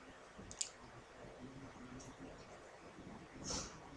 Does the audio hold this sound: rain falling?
no